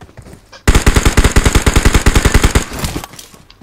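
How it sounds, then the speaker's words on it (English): AK-47 rifle fire in a video game: a loud, close, rapid automatic burst of about twenty evenly spaced shots lasting roughly two seconds, followed by a fading echo. "AK-47"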